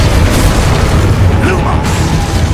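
Booming spell explosions in the Hogwarts Legacy video game, loud and continuous, layered with game music and ambience and with speech over it.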